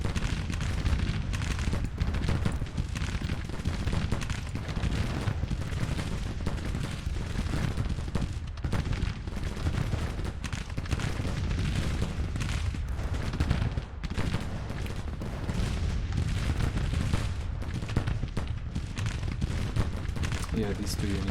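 Units exchange continuous musket and cannon fire on a Civil War battlefield in Grand Tactician, a dense, rumbling barrage of overlapping shots at middle distance, steady and unbroken throughout.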